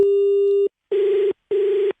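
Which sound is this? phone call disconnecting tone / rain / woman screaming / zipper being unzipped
phone call disconnecting tone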